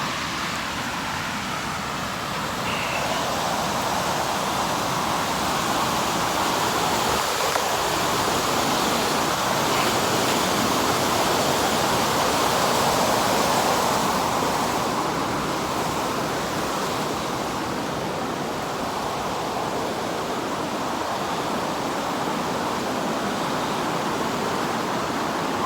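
A waterfall pours steadily over its drop, a dense, constant rush of water heard close and loud without a break.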